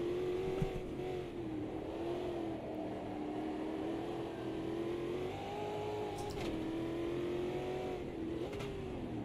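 Race car engine in Automobilista 2 holds high revs in a sustained loud drone, pitch wavering slightly as the throttle shifts, with no talk over it.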